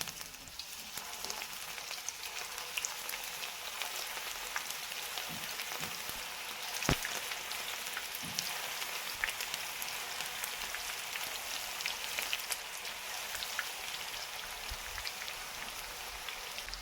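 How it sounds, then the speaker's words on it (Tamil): Beef meatballs deep fry in hot oil with a continuous, even crackling sizzle that holds steady throughout, with a few brief knocks or pops along the way. "இப்போ நம்ம உருண்டையெல்லாம் பொரித்து எடுத்துக்கலாம்"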